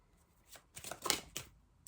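Oracle cards being shuffled and drawn by hand, a short run of soft riffling and papery slaps that builds to a crisp burst near the middle, quiet and close with no talking.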